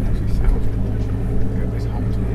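Boat engine just started and running: a steady, close, low rumbling drone with no clear revving or change in pitch.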